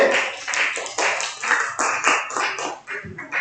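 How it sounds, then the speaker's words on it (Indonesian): A group of people claps hands during a classroom storytelling activity, with loud, close claps arriving in uneven bursts for about three seconds. "Tepuk tangan buat kelompok B."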